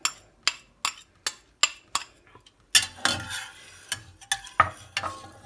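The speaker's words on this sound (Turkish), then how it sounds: "Hepsini çok güzel karıştırıyorum." A spoon stirs a yogurt mixture in a bowl, first with regular sharp clinks against the sides, then with busier scraping and clattering strokes, close and clear with no talk.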